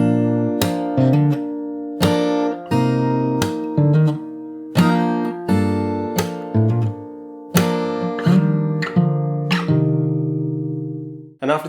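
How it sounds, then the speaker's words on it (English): A fingerstyle acoustic guitar plays the interlude of a song slowly and alone, its plucked chords ringing out one by one and decaying between strums. "So I'll play the whole interlude section again one more time, really slow."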